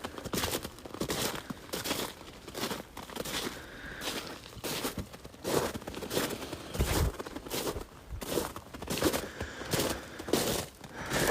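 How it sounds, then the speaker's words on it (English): Footsteps crunch through fresh snow in a forest in fall, a steady close rhythm of crisp compressed steps, one after another. "of me walking in the snow"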